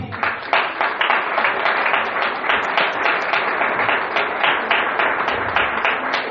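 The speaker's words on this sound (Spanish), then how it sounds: "Dale un fuerte aplauso." Loud, sustained applause from a church congregation during a service, dense clapping filling the whole stretch at steady strength.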